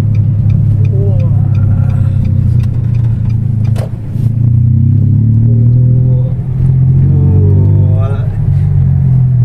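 A Datsun GO Panca engine drones loudly from inside the cabin with a deep rumble as the car drives and turns sharply, the pitch dipping and rising, while a person talks over it.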